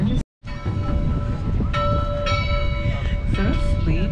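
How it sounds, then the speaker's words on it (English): A bell on a navigational buoy tolls over choppy tidal water near Anacortes, Washington, its ringing tones sustained above a loud, constant rumble of boat engine and wind. "this navigational mark, you can hear the bell tolling"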